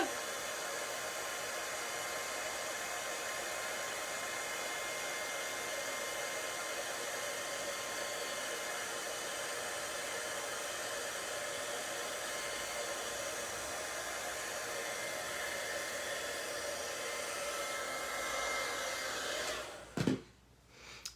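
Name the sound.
heat tool melting embossing powder on card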